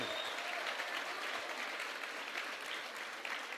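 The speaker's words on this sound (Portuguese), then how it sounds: "Vamos aplaudir a irmã." A congregation applauds at a church talk on global missions, a dense, even wash of clapping that stays loud for the whole stretch.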